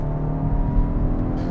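A Hyundai i20N, Ford Fiesta ST and VW Polo GTI accelerate hard in a rolling drag race locked in third gear, a loud, steady, low engine drone rising slightly as the cars pull.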